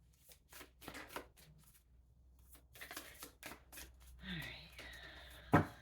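Oracle cards are shuffled in quick, soft riffling bursts, fairly quiet and close, with a brief sharp tap near the end.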